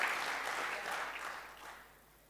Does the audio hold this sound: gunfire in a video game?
no